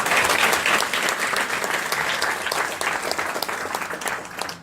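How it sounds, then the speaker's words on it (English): Loud, dense applause from an audience at a talk honouring the speaker's parents, continuous clapping that holds steady and close throughout before tapering slightly at the end. "So give my parents a round of applause."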